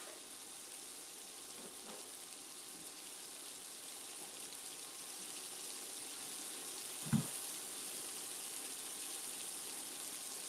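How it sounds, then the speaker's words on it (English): Tap water runs steadily into a sink while a cutting board that held raw steak is washed, a continuous hiss with one brief knock partway through. "I'm going to wash the cutting board since we had the raw meat on it"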